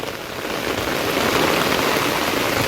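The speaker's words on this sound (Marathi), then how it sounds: "असाच जर पाऊस चालू असेल तर" Dense, steady heavy monsoon rain pouring down close by beside a flooding creek, a continuous roar of drops with no voices.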